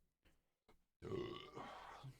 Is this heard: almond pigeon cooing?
no